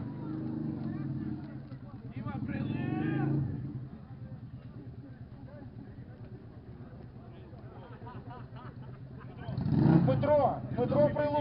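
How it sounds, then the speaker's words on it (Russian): Loud motorcycle exhausts at a loudness contest, engines revving in bursts near the start and again toward the end, with a speaker talking over a steady idle in between. "Кто был громче? Выбираем 4 громких мотоцикла."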